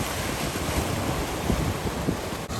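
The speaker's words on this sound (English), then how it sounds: "Waves are really nice." Ocean surf at Daytona Beach with an offshore wind: a broad steady wash of breaking waves and wind rumble, loud and continuous with no voices.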